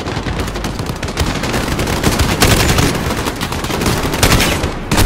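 Dense gunfire from the video game Call of Duty: Modern Warfare on Hardened difficulty, loud rapid automatic bursts and overlapping shots forming a continuous, booming barrage, with no talk over it.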